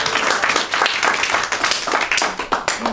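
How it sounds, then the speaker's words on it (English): A theater audience at a stage play claps loudly and steadily for three seconds, a dense wash of close handclaps with no speech. "applause"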